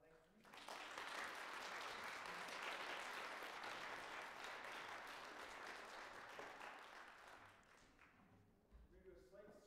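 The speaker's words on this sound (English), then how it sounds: "Please help us give another round of applause." Sustained applause at a senior capstone presentation, a dense, steady wash of many hands clapping for several seconds before tapering off at the end.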